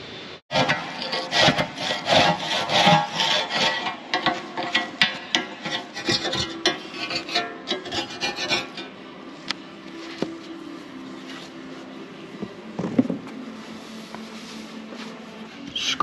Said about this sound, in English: Scrape some of the corrosion off, just enough to give a little test patch sand